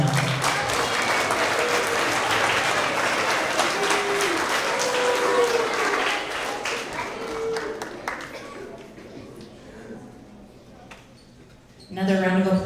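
Audience applause at an end-of-year elementary school award assembly, sustained clapping from a crowd that fades after several seconds, followed by a voice speaking.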